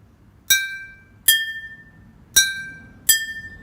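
Four bright taps on glass bottles tuned with water ring out one by one, each a clear, sustained pitched ping that fades slowly, spaced unevenly with quiet between them.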